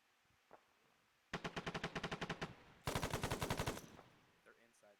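Rapid automatic gunfire from a video game during military squad training, two loud bursts of evenly spaced shots, the first about a dozen rounds and the second slightly denser, with a faint voice between them.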